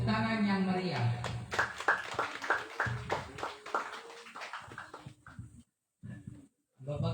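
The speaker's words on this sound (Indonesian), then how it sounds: "mari kita berikan tepuk tangan yang meriah" A congregation at a Christmas service claps in a brisk burst of overlapping hand claps that thin out, then drop into short silences before a few scattered claps return.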